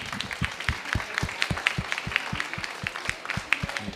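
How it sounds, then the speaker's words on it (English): A small conference audience in a food system pavilion claps at the close of a session, scattered, distinct hand claps in an uneven rhythm with no talking. "please a round of applause for everyone"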